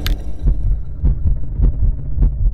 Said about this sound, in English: I took for granted the heartbeat sound would be something I could take advantage of